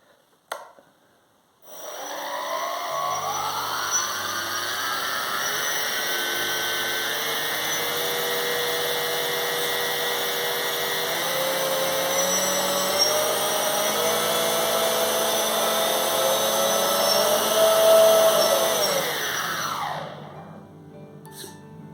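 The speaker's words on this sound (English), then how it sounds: "And then motors, we can do a bit of a run up." Twin electric motors on a Lidl glider converted to radio control run up steadily for about twenty seconds, a close whining drone that builds slightly in pitch and loudness before cutting off abruptly.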